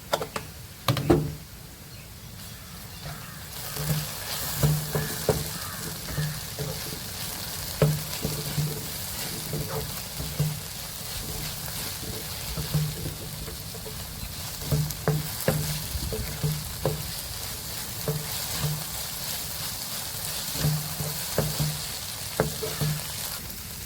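Okra sautéing in a pan with garam masala and turmeric gives a soft continuous sizzle under repeated light ticks and taps of a spatula stirring, fairly quiet and close, with no voices.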